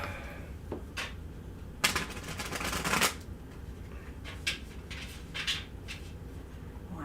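Tarot cards are shuffled on a small table, giving soft, close riffling bursts with a longer rustling run in the middle, all fairly quiet against a steady room hum.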